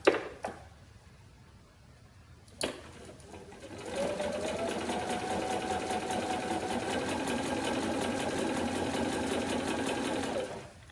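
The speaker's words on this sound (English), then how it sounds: "just stitching one thread past my drawn line" A sewing machine stitches quilt block pieces, starting with a couple of brief clunks, then running in a steady, close, rapid whir with an even mechanical chatter for about seven seconds before stopping.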